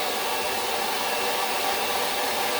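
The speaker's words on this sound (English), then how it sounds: "take your blow dryer on cool, the highest cool you can go, back and forth." A blow dryer on its highest cool setting is swept back and forth over a wrinkled green screen backdrop, producing a steady, loud, close airy roar with no pauses and no voices.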